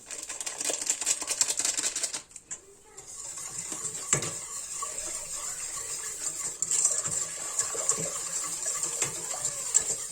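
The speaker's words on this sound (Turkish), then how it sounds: "Bunu iyice çırpıyoruz." A whisk beats cake batter with vanilla in a metal pot, rattling and scraping fast and close against the sides. A short pause breaks it, and a voice speaks over parts of it.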